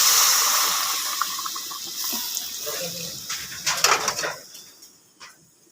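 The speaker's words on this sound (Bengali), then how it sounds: "বন্ধুরা, আমি দিয়ে দিচ্ছি গরম জল।" Hot water is poured from a container into a pan of dried fish and potato curry, making a close, rushing splash that swells, bubbles louder near the end and then stops abruptly.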